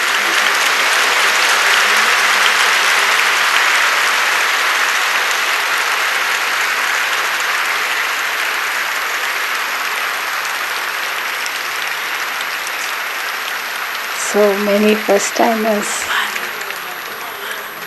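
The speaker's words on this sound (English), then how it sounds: "you may clap as loudly as possible." Audience at a Brahma Kumaris gathering applauds the first-time attendees, a dense, sustained wash of clapping that runs steadily for about fourteen seconds before a voice speaks over the fading applause.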